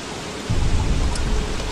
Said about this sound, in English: I sure wish this rain weren't so loud.